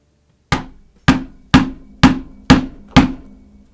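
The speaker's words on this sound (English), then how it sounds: "We then take a maul or mallet to generate striking force and hit the chisel, putting tools into the leather where it will be sewn." A mallet strikes a stitching chisel into leather six times at an even pace, each blow a loud, sharp knock with a quick decay, close up and with no talk.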